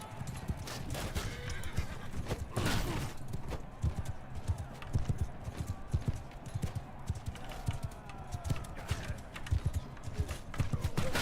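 Rhythmic hoofbeats of a galloping horse in Mount & Blade II: Bannerlord, close and continuous, with a few whinnies breaking through over a low background rumble.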